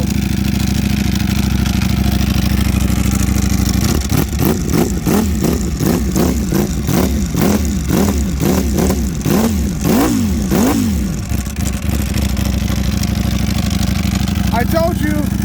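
A superbike engine, a Ducati Panigale V4 R or BMW M 1000 RR, idles loudly and then is blipped in a quick series of about ten sharp revs rising and falling before settling back to a rumbling idle, close to the bike.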